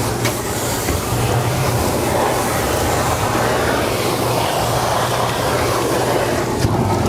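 A dust collector set up outdoors runs continuously with strong suction, a loud, steady rushing roar with a low droning hum underneath and no breaks.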